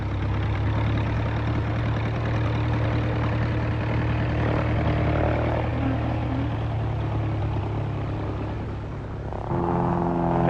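A training aircraft engine runs steadily before takeoff down a runway, a loud continuous droning hum with a slight dip near the end and a rise in pitch at the close.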